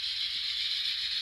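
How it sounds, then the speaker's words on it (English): Steady hiss of the air compressor on an N scale GE Dash 9 (44-CW) model locomotive in BNSF livery, a constant airy rush that holds evenly throughout with a faint low rumble beneath. "compressor kind of kicking in"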